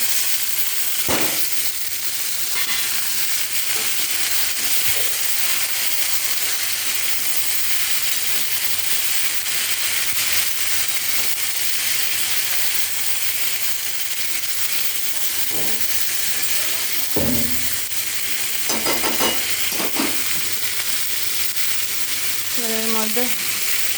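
Yardlong beans, potato and jackfruit seeds fry together in a pan after tempering, giving a soft, steady sizzle and hiss throughout, with a few brief clinks and stirring knocks near the end.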